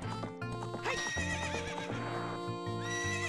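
A horse in Zelda: Ocarina of Time gives a loud whinny with a rising and falling pitch, with hoof clip-clops and game music around it.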